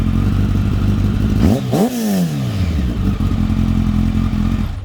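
A Kawasaki ZX10R sport bike fitted with a new aftermarket exhaust idles loud and steady, then gets blipped in two quick sharp revs that climb and fall back to a rumbling idle.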